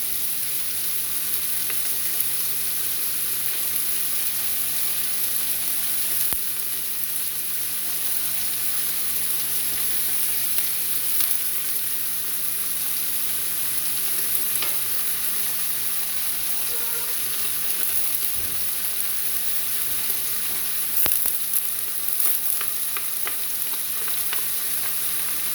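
Smoked lardons and pressed garlic fry in a pan, a steady close sizzle running throughout with faint scraping and clinks of stirring.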